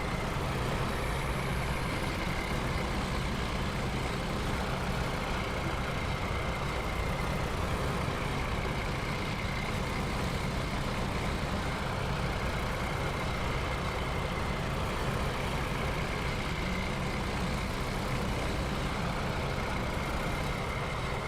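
A truck engine runs steadily in SnowRunner, driving in low gear with diff lock switched on and off. It makes a continuous loud diesel rumble and drone for the whole stretch, with no talk.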